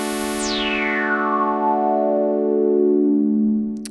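DSI/Oberheim OB-6 synthesizer with filter resonance three quarters up, a sustained tone whose whistling resonant peak glides smoothly downward over a few seconds, loud and solo, ending in a brief click.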